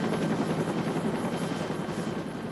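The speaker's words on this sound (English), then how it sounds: "helicopter came in." A rescue helicopter's steady rotor drone as it arrives at a rollercoaster accident scene, continuous and fairly close, with no voices.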